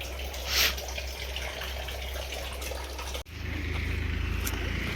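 Water pump machine drawing water into a tank, a steady rushing flow with a low motor hum, briefly cut off and then resuming with a stronger, louder gush.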